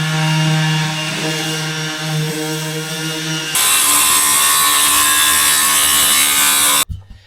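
A jigsaw cuts out a wheel arch in a camper floor, a loud close buzzing rasp that changes pitch partway through as the blade bites, then cuts off abruptly near the end.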